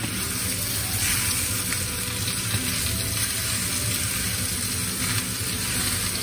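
A filet mignon sizzles steadily in a pan at around ten minutes of cooking, a dense, even hiss throughout with no distinct turning sounds standing out.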